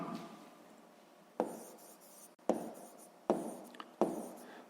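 A pen or pencil writes out a sixth-grade math solution on paper, quiet scratchy strokes broken by several sharp taps as new marks begin, heard close and alone.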